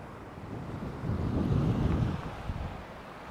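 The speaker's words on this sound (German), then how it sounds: "Wie ihr seht, steife Brise hier. Wellengang wie am Meer." A stiff breeze and waves like a sea's on a Swiss lake along the Jura route roar and swell with steady wind rumble against the microphone, building louder in the middle.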